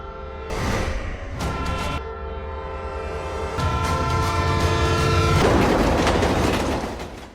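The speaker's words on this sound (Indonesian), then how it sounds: "Arun membawa Gulam ke rel kereta api dan melemparnya saat kereta lewat" A train roars past along the rails in a movie scene, its horn sounding in long, loud blasts over the steady rumble of the passing cars.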